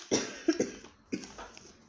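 Three quick coughs, close and moderately loud, two in rapid succession followed by a third after a short pause.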